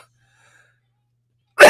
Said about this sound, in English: I'm coughing my way through it with my rough throat and my chest cold